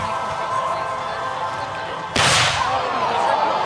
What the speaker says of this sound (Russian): Вот это был выстрел.